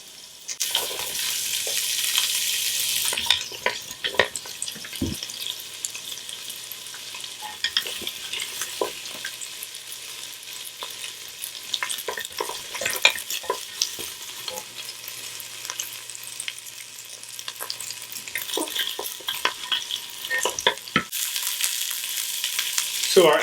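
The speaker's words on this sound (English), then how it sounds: "a couple of stalks of celery cut up, and a quarter cup of white onion cut up. And we're just going to cook these until they're translucent" Chopped celery and white onion sizzle steadily in a pan, a close, continuous frying hiss broken by occasional clicks and stirring scrapes.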